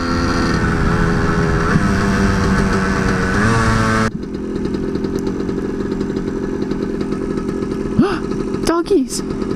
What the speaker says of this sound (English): this bike is a two-stroke, and it has 100 cc's